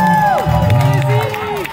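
Crowd cheering and whooping at a rock concert at Vamp'd, with rising and falling shouts and yells over a low rumble and only scattered clapping in a short, loud burst.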